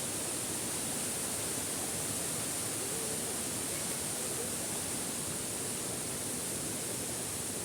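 A waterfall stream in Khotang pours in a constant, dense roar of rushing water, loud and close, with no voices or breaks.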